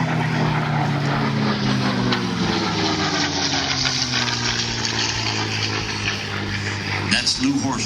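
A propeller airplane flies at an airshow in Vidalia, Georgia, its engine a steady loud drone with a rising and falling pitch as it passes, continuous throughout with no talk over it.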